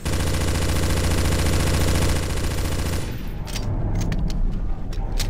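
Heavy sustained automatic gunfire from a Counter-Strike: Source zombie escape round, loud and continuous for about three seconds before breaking into scattered sharp shots over a rumbling background.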